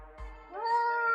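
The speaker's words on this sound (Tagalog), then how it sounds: "Ang mga kalaban natin dito yung pusa oh." A cat outdoors at midnight gives a single close, clear meow that rises and holds, with nothing else heard around it.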